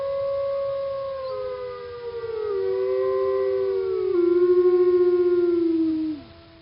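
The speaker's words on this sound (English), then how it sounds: "wolves are known for howling." Wolves howl in long, sustained, wavering tones that glide up and down, several voices overlapping into a steady chorus for about six seconds before cutting off, loud and clear with no talking.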